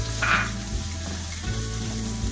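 Finely chopped onions fry in a pan with a steady, close sizzle and soft stirring scrapes, a brief brighter hiss near the start, no voices.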